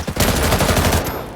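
Rapid machine-gun fire from a combat video game rattles out in one loud, continuous close burst of fast repeated shots lasting about a second.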